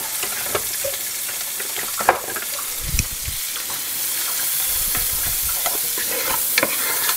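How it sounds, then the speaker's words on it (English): Bacon crisps in a reused frying pan, a close, even sizzle running throughout with occasional utensil clicks and scrapes from stirring, no voices. "So I'm just going to use the same pan. Crisp this up a bit."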